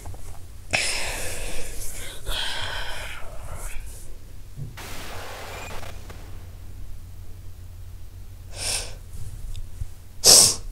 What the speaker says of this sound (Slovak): mne trebalo kýchnuť